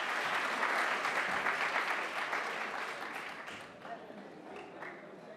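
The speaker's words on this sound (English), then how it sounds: "Please give them big round of applause." Audience at a university cyber security seminar applauding steadily, a dense wash of many hands clapping that fades slightly toward the end.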